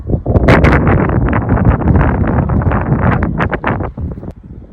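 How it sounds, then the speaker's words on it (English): Strong gusts of wind on a beach in Scotland buffet the microphone in loud, rough bursts, easing slightly toward the end. "it's bloody windy on here on the beach"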